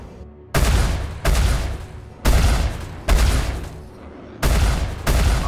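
Spaceship guns fire in Star Citizen, Alpha 2.5, six loud, sharp broadband blasts in an uneven rhythm, each trailing off into a rumbling tail before the next, with no talking.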